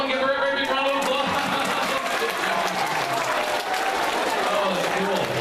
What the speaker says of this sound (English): Everyone give her a very big round of applause.